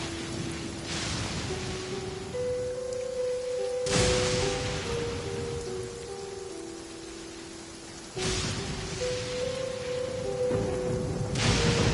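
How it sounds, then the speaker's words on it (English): Steady rain hiss in the video game Genshin Impact, a constant wash of falling rain with soft sustained music tones over it and brief swells where the downpour grows heavier. "It's raining again?"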